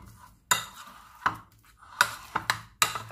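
A utensil stirs hot potatoes with milk in a pot, giving a handful of sharp metallic clinks and scrapes at an uneven pace, close and clear, with soft wet mashing between the knocks.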